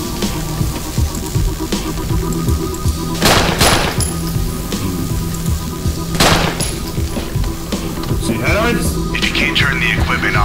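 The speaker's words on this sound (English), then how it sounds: "What if I just shoot that?" Gunfire rings out in the video game Nightmare House 2 as two or three sharp, loud bursts cut through a dense bed of droning ambience and rain-like hiss, with a voice talking now and then.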